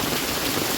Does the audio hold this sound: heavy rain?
yes